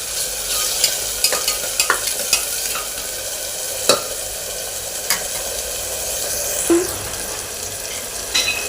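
Chopped onion and tomato fry in a pan with a loud, steady sizzle. A spoon stirs and scrapes through it in intermittent clicks, with no talking.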